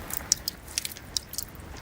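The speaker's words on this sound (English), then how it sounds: "That's the sound of rapid melting, triggered by a few days of unusually warm temperatures." Icebergs melting rapidly in still water off northwest Greenland during unusually warm days. The water gives faint, irregular crackling pops and small fizzing clicks, scattered and close.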